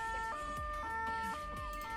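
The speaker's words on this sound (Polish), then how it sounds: "Dobra, spróbujcie włączyć sygnały." Emergency vehicle siren in the video game Emergency 4 wails in repeating rising-and-falling sweeps, loud and close over a low engine-like rumble, with no talking.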